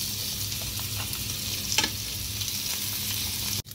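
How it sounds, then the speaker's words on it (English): Butter, about four tablespoons, sizzles and fries steadily around salmon fillets in a pan for brown butter sauce, a constant close crackling hiss with a brief scrape midway, cut off abruptly near the end. "So I'm adding my butter now, like 4 tablespoons of butter."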